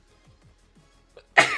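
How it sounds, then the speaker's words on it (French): After a stretch of near silence with faint soft noises, a single sharp sneeze bursts out close and loud at the very end. "J'ai envie d'éternuer."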